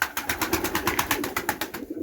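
Domestic pigeons of the Budapest breed, cooing in a steady, repeated pulsing rhythm of about a dozen soft calls, close by and alone with no talk.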